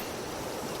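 River water flows past a riverbank in a steady, dense rush of noise that fills the whole short moment. The flow is fairly loud and close, with no voices.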